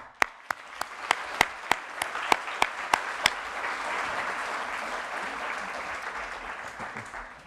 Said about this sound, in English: Give yourselves a very good and well-deserved round of applause.